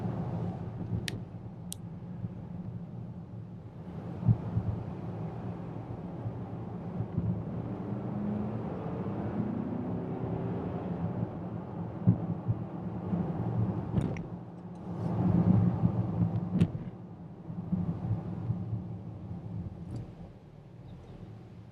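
Volvo XC90 R-Design driving on back streets and a dual carriageway, heard as a steady low road and engine rumble with faint ticks and a few soft bumps, fairly quiet and without talk.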